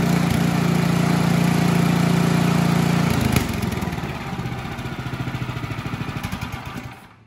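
An Ariens Deluxe 24 snow thrower engine with a newly installed carburetor, running loud and steady for three seconds, then dropping into a rapid chugging putter that pulses evenly until it stops.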